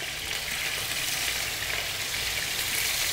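Fish (pintado) frying in olive oil in a pan, a steady close crackling sizzle with dense hiss that holds evenly for about three seconds, no voices over it.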